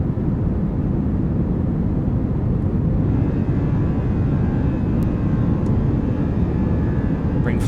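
Steady, loud roar of CFM jet engines on a Fenix A320 airliner in a flight simulator game, a continuous broadband rumble with no break, no talk.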